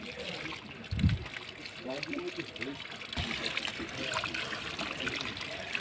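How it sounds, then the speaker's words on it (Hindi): Clear mountain stream water flowing steadily in a valley near the Khunjerab Pass, a continuous broadband rush close by, with a short low thump and someone talking over it at times. "ये पानी साफ़ है यहाँ पे"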